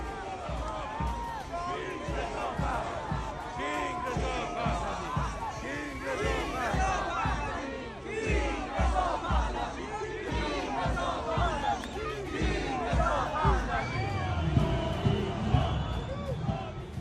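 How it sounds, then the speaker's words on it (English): Demonstrators gathered outside an embassy in Oslo, cheering and shouting as a flag is replaced, a dense, continuous crowd roar with overlapping voices and rhythmic thumps, moderately distant. "a crowd of demonstrators gathered below, cheering while the historic emblem was hoisted in place of the current regime's flag"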